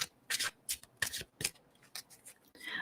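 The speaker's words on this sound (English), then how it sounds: "I have to shuffle these good." Tarot cards being shuffled by hand in a series of quick, crisp riffling bursts separated by short pauses, close and fairly quiet with no talking.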